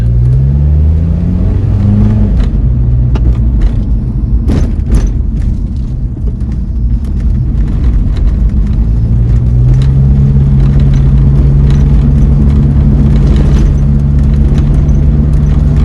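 A Nissan Largo van with an upgraded exhaust and chipped ECU accelerates on the road, its engine note climbing and shifting through steady rising tones, loud and close throughout.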